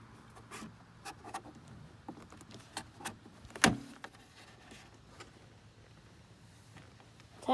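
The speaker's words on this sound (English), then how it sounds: "All right, now it's time to pop the clips off." Plastic door panel clips being pried off a Mercedes W211 E-Class door: scattered scraping and rubbing with small creaks, then one sharp loud pop as a clip releases, followed by quieter fumbling and a final click.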